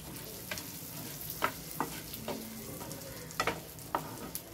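Coarse lapshi semolina roasting in hot ghee in a home kitchen, a low continuous sizzle broken by repeated scraping strokes of a spoon stirring the grains, close and fairly quiet.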